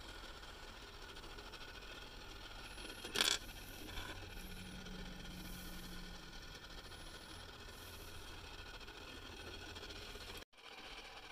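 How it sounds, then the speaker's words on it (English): Tiny toy electric train cars from the smallest working train set slide across a printed circuit board track, giving a faint, steady scraping hum with a brief sharp rattle near the start. "The sound you hear is actually the train cars sliding across the PCB printed board."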